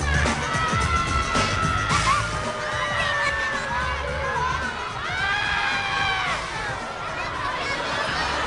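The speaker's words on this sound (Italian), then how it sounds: "Ancora un po' di applausi da portare a casa." An audience at a circus show cheers, whoops and shouts loudly, with high excited voices rising over sustained crowd noise throughout.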